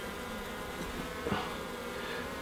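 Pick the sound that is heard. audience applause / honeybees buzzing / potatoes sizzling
honeybees buzzing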